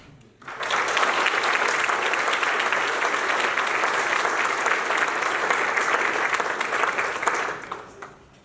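An audience at a high school academic achievement awards ceremony breaks into sustained, dense applause that swells quickly, holds steady for several seconds and then tapers off.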